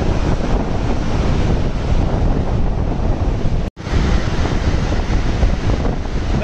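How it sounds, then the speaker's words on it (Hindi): Loud, continuous rushing roar of water pouring through all 22 open gates of Bargi Dam, Jabalpur, heard from just above the gates, broadband and steady, with a brief dropout near the middle before the torrent resumes. "पानी की जो आवाज़ है वो आप फील कीजिए"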